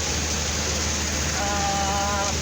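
Heavy rain with strong wind in Bogor, a dense constant wash of falling water with a dull low rumble underneath, loud and unbroken throughout.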